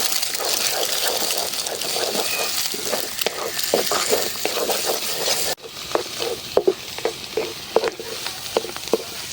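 Food frying in a pan with mustard oil, stirred briskly with repeated scraping strokes over a steady sizzle; the sizzle drops quieter halfway while distinct stirring knocks continue.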